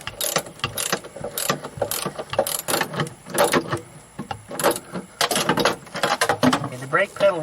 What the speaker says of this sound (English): get our ratchet on there.